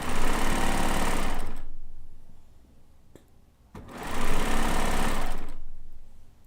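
An electronic sewing machine with around 200 built-in stitches runs in two loud, steady bursts of stitching, each about a second and a half long, separated by a short pause.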